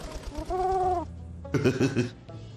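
A pigeon in Bum Simulator gives a short series of throaty, clucking coos, close and fairly loud, in two separate bursts with a brief pause between them.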